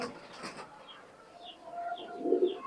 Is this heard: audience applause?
no